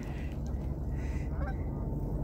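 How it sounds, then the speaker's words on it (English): Geese honk faintly and briefly over the heavy, steady rumble of an icebreaker pushing through shipping-lane ice on a foggy -22°C morning. "Geese don't know what I'm doing here."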